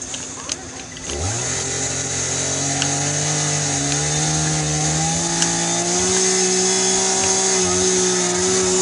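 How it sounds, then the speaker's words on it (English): Chainsaws run outside with a steady, loud engine drone whose pitch rises and holds high after a quick rev-up, continuing without a break for several seconds. "People with chainsaws, they'd be working outside."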